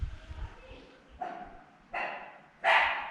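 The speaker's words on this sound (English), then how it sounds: "And you can hear one of my dogs." A dog barks three times in quick succession on the grounds of Carnasserie Castle in Scotland, each bark close and getting louder, with a low rumble of outdoor noise before the first.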